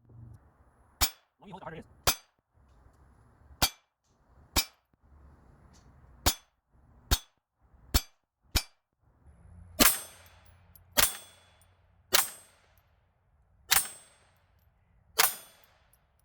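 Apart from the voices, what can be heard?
gunshots fired at a target 10 yards away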